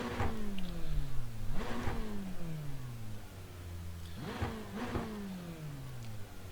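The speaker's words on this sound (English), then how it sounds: "Tell it's a Ferrari sound," A Ferrari engine in the iRacing sim revs up repeatedly, its pitch sweeping down between sharp climbs, loud, close and alone.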